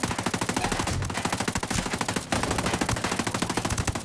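Rapid automatic gunfire in Ghost Recon Breakpoint rattles in loud, steady bursts throughout, with a brief break just past the midpoint before the shots resume at the same fast pace.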